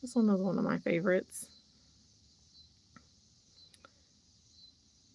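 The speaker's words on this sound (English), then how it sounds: "Hopefully the cicadas aren't bugging you guys too much if you can hear them in the background." Cicadas drone in a steady, high buzz throughout an outdoor summer setting, continuing unchanged after a person speaks briefly at the start, with a few faint clicks on top.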